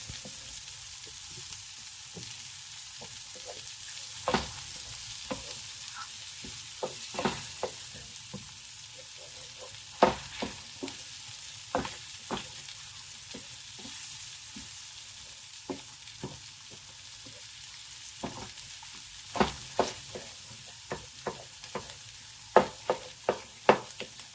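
An egg fries in a hot pan while pad thai is cooked, giving a continuous sizzle with intermittent sharp crackles and utensil taps that come closer together toward the end.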